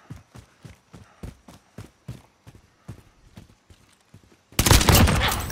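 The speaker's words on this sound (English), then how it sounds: "Now that was a shot!" A single loud gunshot in the battle royale game Warzone on the Caldera map bursts out near the end with a lingering echo, after a run of steady, rhythmic footsteps.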